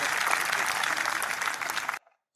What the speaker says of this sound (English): We're clapping.